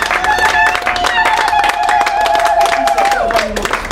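A church congregation claps for a pastor, a dense, steady patter of many hands running throughout, mixed with sustained voices or tones.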